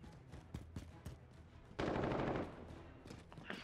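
Call of Duty gunfire: quick sharp shots crackle in short bursts, with one louder sustained volley in the middle before scattered shots resume.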